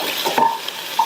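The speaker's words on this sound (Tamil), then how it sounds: "நீங்க பக்கத்திலேயே இருந்து இந்த மாதிரி வதக்கிட்டீங்கன்னா எல்லா வெங்காயமுமே நல்லா ஒண்ணு போல வதங்கும்." Onions and green chillies sautéing in a pan make a second of scraping stir strokes with light sizzle and a couple of sharp utensil clinks against the pan.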